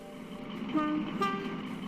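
Two short toots from a steam train whistle, one after the other, over a steady mechanical rumble, fairly faint.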